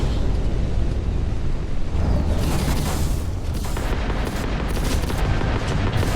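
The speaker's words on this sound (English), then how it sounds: "Oh, they are shooting at me." Gunfire in the video game Starfield comes as a dense, loud barrage of booming shots and blasts, continuous over several seconds with heavy low rumble, and no voices.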